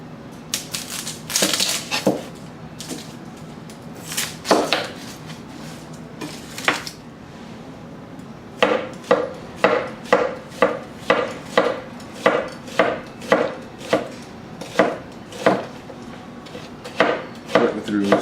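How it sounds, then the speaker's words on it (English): A Damascus nakiri knife julienning a red onion on a cutting board: a few scattered slices first, then a steady run of crisp, evenly spaced chopping strokes close by, with no talking. "Julienne here on a red onion."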